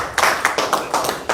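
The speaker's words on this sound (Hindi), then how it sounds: "जोरदार तालियों से" An audience claps loudly to welcome a new member joining a political party, with distinct rhythmic bursts of hand claps close by, no talk over them.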